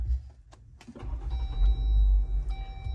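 A 2019 Jeep Wrangler Unlimited Sport starting with keyless push-button start: a brief starter whir, then the engine catching into a steady low idle rumble, close by inside the cockpit with a faint chime tone.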